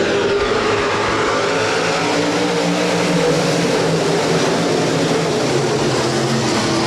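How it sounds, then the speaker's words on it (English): USRA stock cars race at Rapid Speedway during a feature event. A loud, continuous engine roar fills the track as the pack circles, steady and dense with no breaks. "We're set to go stock car racing."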